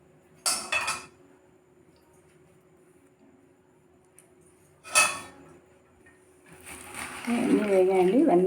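Fried ingredients for Eid kheer are stirred together with a metal utensil in a pan. Two short bursts of scraping and clinking come first, then a longer run of sizzling, stirring noise, with speech over it.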